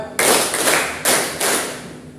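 A classroom counting-clap game, with pupils clapping together in four rhythmic claps of broad, bright bursts that run as groups fairly close by, with no talk over them.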